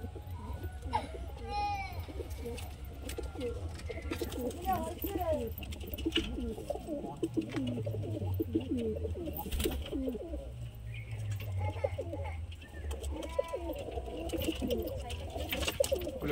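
Baby pigeons in a pigeon keeper's loft cooing continuously, soft wavering calls overlapping one another close by, with low rumbling murmurs beneath and occasional faint voices in the background.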